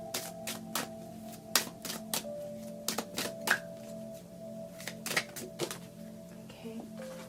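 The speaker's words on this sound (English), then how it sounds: "We're going to pull some healing cards." Healing oracle cards being shuffled for a card reading, a run of sharp riffling and tapping bursts repeating irregularly at close range over a faint steady hum.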